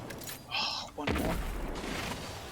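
Gunfire in the video game Destiny 2: a sharp shot around the midpoint with a booming burst, over a steady game soundscape and a bright whine just before.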